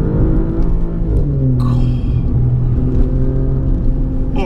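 Alfa Romeo Giulia Quadrifoglio engine pulling hard during track driving with trail braking, a loud continuous rumbling drone with rising and shifting revs, heard close from inside the car with no talk.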